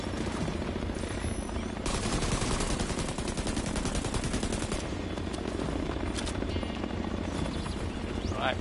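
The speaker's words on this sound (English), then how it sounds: "I hear helicopters coming in, which is reinforcement" Helicopters arrive as reinforcements in The Division 2, the video game, their rotor chop steady and prominent, while bursts of machine-gun fire rattle through the scene.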